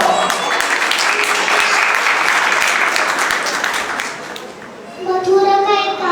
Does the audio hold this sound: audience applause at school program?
yes